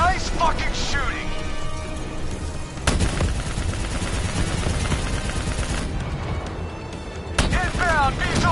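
Gunfire in the video game Call of Duty Zombies, a sustained loud rattle of automatic fire with sharp blasts, while voices shout over it.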